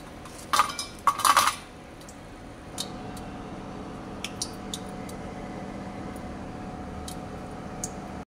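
Fried finger potatoes are lifted out onto a plate, with a quick cluster of bright metal-on-plate clinks up front and then scattered faint ticks and taps over a quiet background hum.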